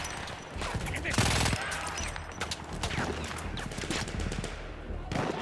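Gunfire in Battlefield 1 combat: a continuous rattle of rapid shots with scattered louder bursts, a voice talking underneath.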